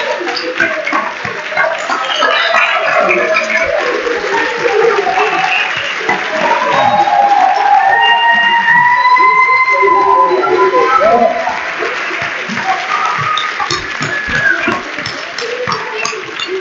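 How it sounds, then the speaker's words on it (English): Applause from an audience at an awards-style recognition event, broad steady clapping mixed with crowd noise, cheers and whistles that rise and fall, with voices audible throughout. "let's give them a round of applause."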